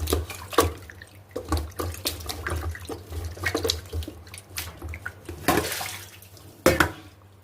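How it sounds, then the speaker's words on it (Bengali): Tap water runs intermittently at close range as soaked chicken pieces are rinsed by hand in a kitchen sink for chicken fry, with uneven splashing bursts and pauses. "সকালবেলা ভিজানো চিকেনগুলোকে এখন আমি ভালো করে ধুয়ে নেব চিকেন ফ্রাই করার জন্য।"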